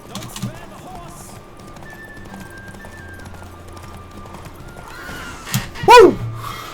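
Witcher 3 horse galloping, then letting out a loud, close neigh that rises and falls near the end, after a quieter stretch of hoofbeats and game ambience with a voice speaking.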